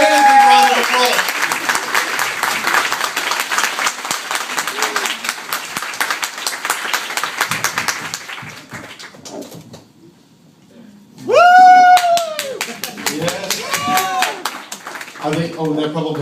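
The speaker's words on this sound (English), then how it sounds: "give them a really big round of applause" An audience at a StartUp Weekend Mobile event in Sofia, Bulgaria claps in a long, dense burst of applause. It fades after about eight seconds, then whoops and voices follow.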